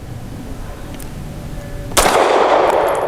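A Tisas Bantam 9mm pistol fires a single Speer Lawman 147 grain TMJ round: one sharp, loud report about two seconds in after quiet background noise, then a bright ringing decay that fades slowly.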